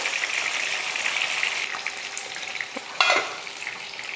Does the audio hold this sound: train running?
no